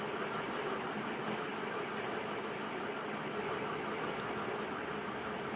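An electric sewing machine runs steadily while stitching blouse fabric, a continuous even whirring drone with a fast fine rhythm, close and moderately loud, with no talking.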